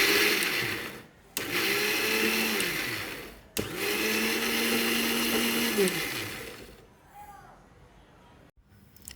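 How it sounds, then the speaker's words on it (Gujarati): A kitchen mixer grinder crushing fresh green corn kernels runs in two loud bursts, each starting abruptly and whining steadily before stopping, followed by a quieter stretch of faint clatter. "પોણા ભાગના જે દાણા છે તેને આપણે મિક્સરની અંદર ક્રશ કરી લેવાના છે"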